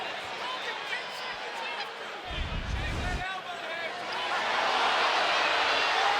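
A college basketball arena crowd, Virginia vs. Louisville, swells into loud booing and roaring after a foul call, building steadily louder toward the end over a commentator's voice.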